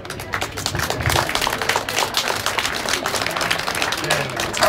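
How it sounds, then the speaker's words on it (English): A congregation claps inside Immanuel Presbyterian Church, a moderately loud burst of scattered handclaps that continues steadily throughout, with some murmuring voices underneath. "So would you please give a round of applause for them?"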